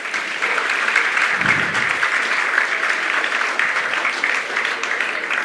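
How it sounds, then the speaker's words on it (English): An audience at an international seminar claps for a guest speaker, a full, even wash of applause sustained throughout with a brief low thump partway through. "A round of applause for him,"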